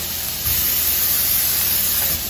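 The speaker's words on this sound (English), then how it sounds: "I'm going to hit that with just a little bit more cooking spray too" A steady, close hiss of cooking spray being sprayed onto a quiche dish, lasting a couple of seconds without a break.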